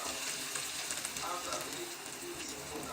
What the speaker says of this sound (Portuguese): minha cebola aqui já deu uma refogada